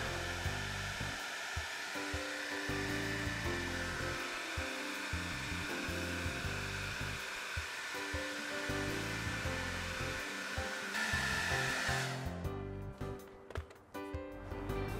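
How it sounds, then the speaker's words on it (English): A hair dryer blows steadily on its high heat setting, held close to a patch on a porch screen, with a continuous loud whirring hiss that cuts off near the end. "Hold the hair dryer at a distance of 1 inch, and using the high heat setting, apply heat"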